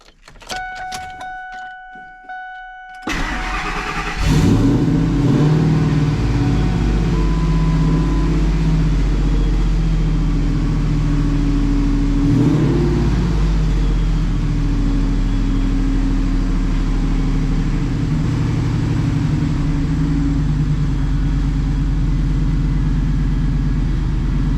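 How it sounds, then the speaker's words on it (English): A 2000 Ford SVT Lightning pickup with a swapped engine cranks after a few dash chimes, fires up loudly and settles into a steady, close, rumbling idle that continues throughout with small revs. "The truck is running."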